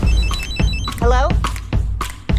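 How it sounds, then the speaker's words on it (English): A phone rings in a movie trailer, with several short repeated electronic rings cutting through a voice talking over them, close and loud. "Oh no, I lost my phone. Here we go. Ringing."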